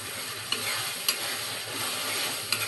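Koi fish bhuna with onion frying and being stirred in a pan, giving a steady loud sizzle with a few sharp scrape-like clicks from the spoon, close and without talk.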